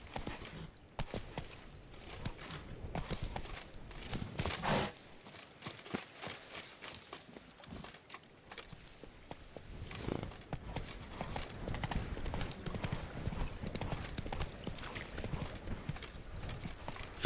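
Roach the horse galloping in the Witcher 3 Blood and Wine expansion, with continuous rapid hoofbeats clopping at a steady, moderate level throughout.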